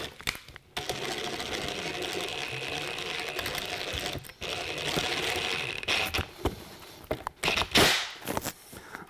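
A power drill runs in reverse to back out a screw holding a locking nut. Short whirring bursts start and stop irregularly, close and moderately loud, with brief pauses between them.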